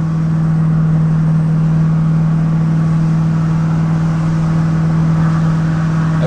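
Steady low drone and road rumble inside a Ford 6.7 Powerstroke diesel pickup towing uphill in tow/haul mode on a gentle grade, a constant loud hum with no change in pitch and no voices.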